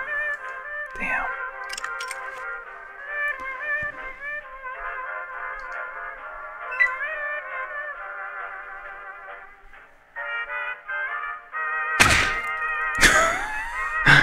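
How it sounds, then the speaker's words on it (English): A character strikes another in the Fallout 2 video game: a couple of hard, sharp thwacks near the end, loud against a soft melodic background music bed, with no voices. "Mira just hit Lily."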